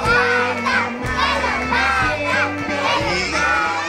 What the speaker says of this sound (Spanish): Ahora gritamos que lo parta.